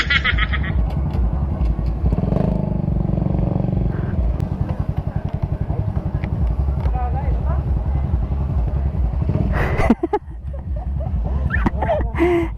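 Motorcycles ride along a rural road on a charity ride, a steady loud engine drone with clattering bumps throughout and brief wind buffeting near the end; voices talk faintly underneath.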